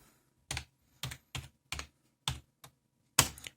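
Sparse, distinct keystrokes on a computer keyboard, about seven separate clicks spaced irregularly in a quiet room, the last one a heavier key press.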